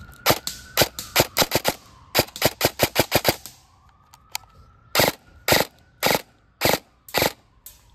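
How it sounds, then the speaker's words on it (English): Rapid gunfire in three-round bursts from a gun loaded with a high-capacity magazine: sharp, close cracks in quick clusters, first in a fast run of shots, then in spaced groups. "And this is 3-round burst."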